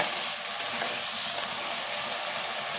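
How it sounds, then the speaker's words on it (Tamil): Turkey berries (sundakkai) sautéing in a pan make a dense, steady sizzle with faint stirring scrapes. The sound is close and continuous, with no voices. "நல்லா வதக்கி எடுத்துக்கலாம்."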